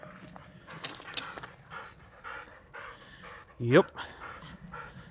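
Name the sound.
dog panting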